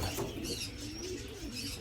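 Pigeons kept as fast-flying birds coo softly close by, their low rolling calls half buried in a loud, steady wind-like rush.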